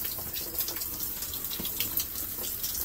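A shower runs steadily, a close, soft hiss of water spraying and splashing with no talk over it.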